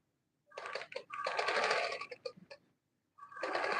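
Sewing machine stitching Ankara fabric along the seam allowance, close mechanical whirring in several runs of varying length separated by short pauses, with no speech.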